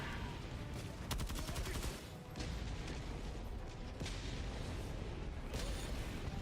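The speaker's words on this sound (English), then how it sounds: "I don't know which way that walking barrage is going." A walking artillery barrage in a video game, with a constant rumbling din broken by several sharp crackling impacts and dull booms, fairly faint and at a distance, with no one talking.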